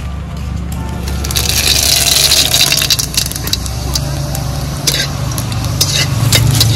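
Radhuni seeds and bay leaves hitting hot oil for tempering, a loud, dense sizzle with sharp crackles and spattering pops over a low background hum.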